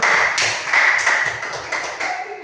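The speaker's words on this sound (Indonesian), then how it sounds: "Tepuk tangan untuk Bapak Rafi." A crowd at a school gathering applauds a teacher, a short burst of dense, close clapping that swells and slowly thins out.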